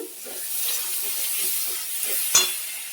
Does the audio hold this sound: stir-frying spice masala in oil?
yes